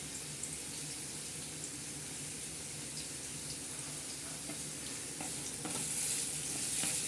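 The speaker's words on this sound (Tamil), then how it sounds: "சைடில் நம்ம வதக்கிட்டே இருக்கோம் ஃப்ளேம் கம்மியாக தான் இருக்குது" Green chilli and ginger sautéing in a pan over a low flame for a buttermilk curry, a soft, steady sizzle with light stirring, faint and continuous with no voices.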